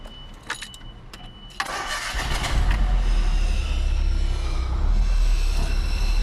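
A carbureted Tofaş Şahin engine cranks over with a few sharp clicks, then catches and settles into a loud, steady running rumble that continues to the end, with no one speaking.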